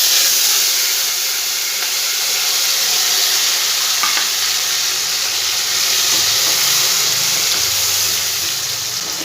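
Ground spice paste sizzles loudly in a hot pan after cumin seeds, a dense, steady frying hiss close up with faint stirring scrapes, no voices, while cooking a Bengali papad dalna.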